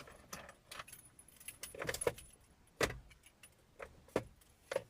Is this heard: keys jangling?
yes